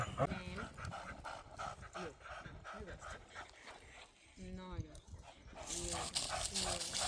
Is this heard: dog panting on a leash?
yes